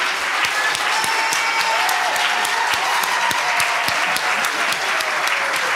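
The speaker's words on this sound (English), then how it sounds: "Thank you for that applause." Audience applause fills a 1999 unsung hero awards ceremony at the San Francisco Public Library, with steady, dense clapping that holds at an even level throughout and no speech over it.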